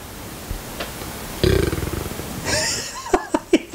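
A drawn-out burp from a B-movie scene, loud at onset with a pulsing rumble that peters out, followed by short sharp vocal bursts.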